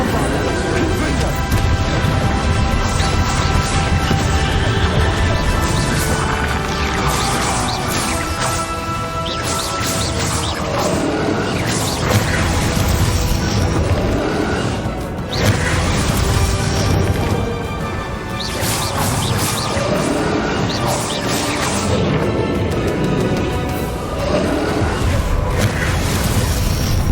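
Bombarda and Confringo spells explode again and again in a Hogwarts Legacy battle, with crashing, booming blasts that run together into a loud, continuous din of impacts and effects.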